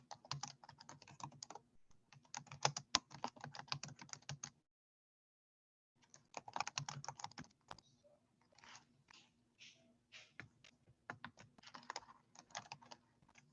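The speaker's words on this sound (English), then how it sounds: "I'm typing it." Typing on a computer keyboard during a parent workshop, close and fairly quiet, in steady bursts of rapid keystrokes broken by a short pause of silence midway.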